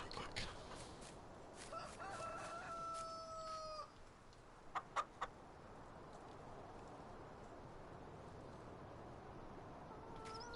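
Farm chickens in the game Welker's Farm cluck softly while a rooster crows once, with a few short clucks after it, all faint against a steady background hiss.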